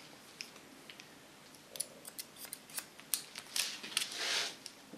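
Scissors snip through hair in a freehand haircut, a quiet series of crisp, close snips that quicken into a dense flurry near the end, with no talking.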